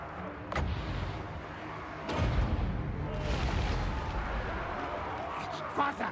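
Artillery gunners firing in Total War: Warhammer during a Clan Eshin Skaven battle, a few heavy booming blasts over a dense rumbling battle din, with someone talking through the noise.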